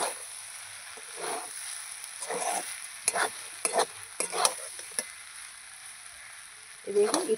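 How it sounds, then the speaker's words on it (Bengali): A wooden spoon stirs and scrapes chicken posto with ghee in a pan once its water has cooked off, in short separate bursts of scraping with a soft sizzle between them. "এবার আমি একটু নাড়াচাড়া করে দেবো।"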